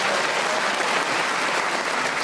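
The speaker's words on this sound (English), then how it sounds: "the lead at the end, it was Giles Brandreth, so let's give him an extra round of applause." Studio audience at a radio panel game show applauding the winner, a loud, dense and uninterrupted round of clapping with no talk over it.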